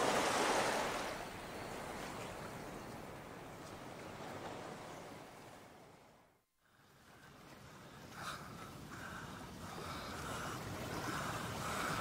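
Ocean waves washing against an island shore in a steady, continuous surf that stays fairly loud throughout, dips briefly near the middle, then rises again, with no voices.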